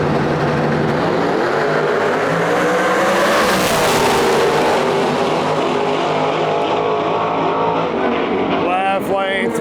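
Race cars roar around a track at full throttle, engines loud and continuous with rising and falling pitch as they pass, a commentator talking over the din.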